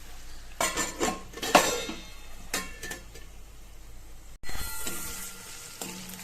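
Bell pepper sabzi with crushed peanuts cooks in an oiled pan, a steady soft sizzle running throughout beneath several clinks and scrapes of a spoon stirring, close and moderately quiet.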